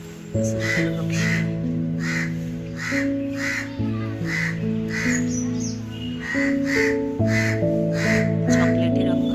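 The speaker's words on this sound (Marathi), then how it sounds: "अन्य कावळे त्याला टॅव टॅव करतात." Several crows caw in a steady run of harsh, evenly spaced calls aimed at another bird, a greater coucal, over a continuous tonal background hum.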